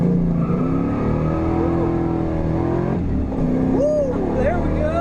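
A 1994 Camaro Z28 engine pulls hard, its note climbing steadily and then rising again after a shift, loud and close inside the car, with voices over it.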